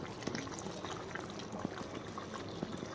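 A pot of paneer curry with water boils on the stove, a soft, continuous bubbling and popping heard close up with no talking.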